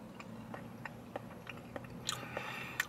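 A Bonefish Grill dish with raspberry sauce being eaten up close: faint, soft bites and chewing, with a few small crunchy clicks spaced irregularly, and no talking.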